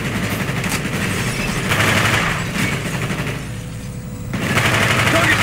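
Gunfire from a gun in the video game Call of Duty Black Ops, a dense, continuous stream of shots with loud stretches and a brief lull, no speech heard.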